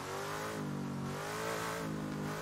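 Lola T290 prototype race car engine revving hard on throttle in Assetto Corsa, a sustained loud mid-pitched drone with rising and falling pitch, close and continuous with no talk.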